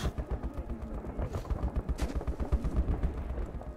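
Gunfire in the first-person shooter Metro 2033 Redux comes as a rapid, continuous stream of muffled shots, thudding and rumbling at moderate distance throughout.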